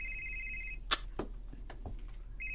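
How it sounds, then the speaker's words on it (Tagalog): A cellphone ringtone plays close by in a steady electronic tone, breaks off for a few seconds while a voice speaks briefly, then starts ringing again. "Imo rong cellphone, oh. May bagting, Anton."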